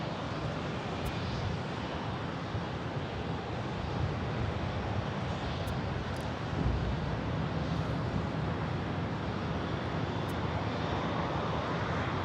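An Airbus A320neo airliner on its takeoff run at Phoenix Sky Harbor Airport, a steady broadband engine roar heard from a distance with some wind noise, unbroken and without talking.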